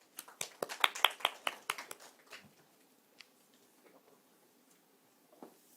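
A small audience at a public forum in the Philippines claps for a speaker, a brief burst of sharp, separate handclaps that thins out within two seconds, followed by near silence and a few stray claps.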